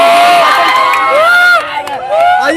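A dense crowd commotion at a V-mart store sale, loud and close, with many overlapping shouting voices and excited calls piling up over one another throughout.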